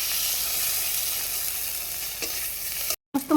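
Spice paste of ginger, onion, chilli, turmeric, mustard and cumin frying in oil, a loud steady close sizzle with a faint stirring scrape near the end, cut by a brief gap of silence.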